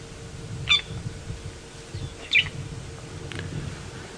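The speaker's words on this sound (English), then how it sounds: "what bird you are hearing chirping in the background. Well, it's a fork-tailed drongo, and it's sitting right on the top of this torchwood tree" A fork-tailed drongo perched atop a torchwood tree gives a few sharp, separate chirps, three brief calls spaced about a second and a half apart over low steady background rumble.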